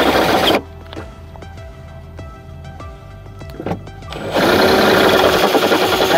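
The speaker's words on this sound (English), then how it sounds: "I'm gonna drill into this, and there's no turning back" A power drill with a 1/4-inch bit whirs into plastic, cutting off into a quieter rapid motor rattle with short bursts, then a loud rough grinding rush takes over near the end.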